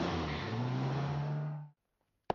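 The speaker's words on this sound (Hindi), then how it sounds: "चलो गाड़ी चलाओ। लेकिन स्टार्ट तो करने दो।" A car engine runs with a rising, revving pitch for under two seconds, then cuts off abruptly, followed by silence and a single sharp click.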